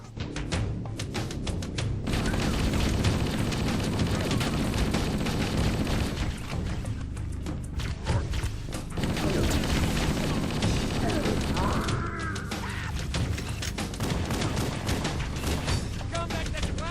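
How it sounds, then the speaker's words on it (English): Marines open up with a Warthog chain gun in Halo: Combat Evolved, a dense, sustained burst of automatic fire and booming explosions running almost continuously under game music and voices. "The Marines will let loose with the chain gun."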